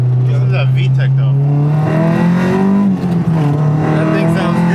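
A Honda VTEC engine with an aftermarket intake and header revs loudly and close up, its pitch climbing steadily under a rising drone, while people talk over it.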